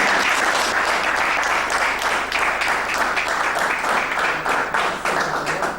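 A crowd at a Congolese gathering applauds ahead of a president taking the floor, a full, loud burst of clapping that holds steady for several seconds before easing slightly.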